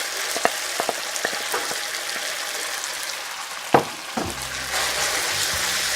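Noodles for Thai rad na dropped into hot oil in a pan, with a steady, even sizzle, a few faint ticks early on and a louder scrape or clatter near the end before the frying settles.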